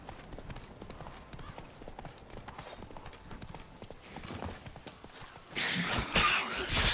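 Hooves of Roach, a horse in The Witcher 3, clip-clopping in a steady rhythm throughout, with a louder, brighter burst of hoofbeats near the end.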